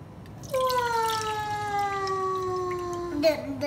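Water poured from a container in a home setting, a steady stream with a rising pitch as the vessel fills, lasting a few seconds with a brief clatter near the end.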